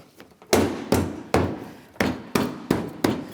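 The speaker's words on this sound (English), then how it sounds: "Just a couple light taps." Six light taps land on a bumper cover as it is aligned against the headlamp and body of a 2007-2014 Ford Edge 3.5L. Each is a sharp, close knock with a short decay, spaced irregularly about half a second apart.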